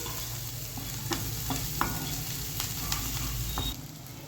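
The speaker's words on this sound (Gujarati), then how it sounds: "હવે આપણે ડુંગળીને 1 મિનિટ સુધી સાંતળી લેશું" Finely chopped onion sautés in hot oil with a pinch of asafoetida, giving a steady sizzle with occasional scraping clicks from a stirring spoon.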